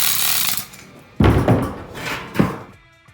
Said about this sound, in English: Let's get this electric hammer.